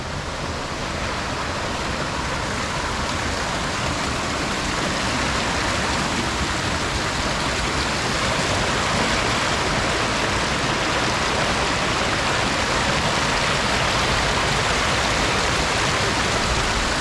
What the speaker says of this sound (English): It's a nice little creek.